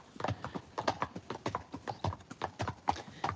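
Horse hooves clip-clop in a steady walking rhythm, close by and fairly quiet, outdoors in the Cumbrian countryside of northern England.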